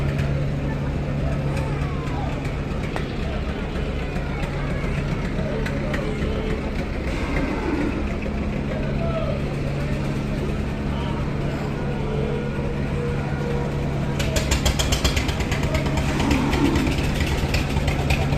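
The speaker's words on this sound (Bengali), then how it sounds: "সাতটা পনেরো মিনিটে ঘোরানো দিনের উদ্দেশ্যে ছেড়ে যাচ্ছে মানিক এক লঞ্চ" The passenger launch Manik 1 rumbles as it idles before departure, a steady, continuous engine drone that holds throughout with people's voices in the background.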